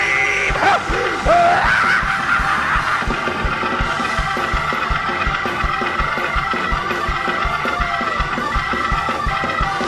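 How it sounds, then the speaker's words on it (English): A church congregation erupts in a praise break, with loud shouting and screaming over a thumping beat of music or stamping, a dense, continuous roar throughout. "Holler for your deliverance. Break out in your scream."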